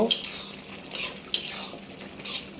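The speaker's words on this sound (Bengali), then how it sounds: "এখানে অনবরত নাড়তে থাকবো" A spoon stirring pangas fish in a pan, scraping in several broad bursts of clatter with a faint sizzle underneath, close and moderately loud, with no talk.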